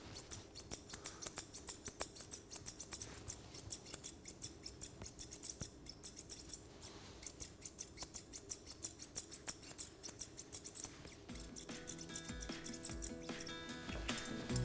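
Scissors trimming a Cockapoo's leg hair in a teddybear grooming cut, rapid close snipping clicks in a steady rhythm throughout, growing denser and busier toward the end.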